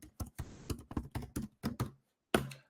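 Keys tapped on a computer keyboard in a run of distinct, fairly close keystrokes with short pauses, ending in one sharper final tap, no talking.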